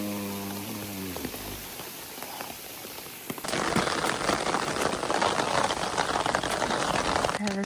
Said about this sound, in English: Anyway, it's still raining.